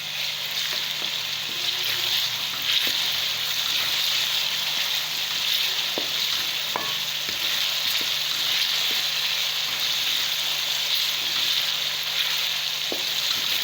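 Cumin frying in ghee over medium heat, with cinnamon sticks, cloves and a paste in the pan for white chicken korma. A steady, dense sizzle runs unbroken and fairly loud throughout, with a few faint clicks.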